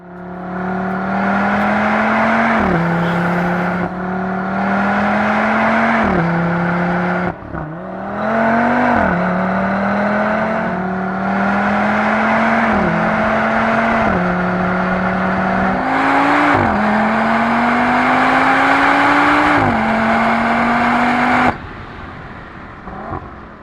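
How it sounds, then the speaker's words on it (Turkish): An Audi RS performance car runs in performance mode with a loud, close exhaust, the engine droning steadily and surging in repeated rising revs, broken by brief dips, before cutting off near the end. "Çok etkileyici bir şekilde otomobilin motoru start alıyor."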